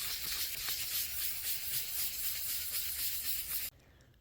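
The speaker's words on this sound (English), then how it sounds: "the body is fully sanded with the K1000, the Super Acrylics" Steady abrasive rubbing of sandpaper over a car body's clear coat, a continuous close hiss with a faint back-and-forth pulse that stops abruptly near the end.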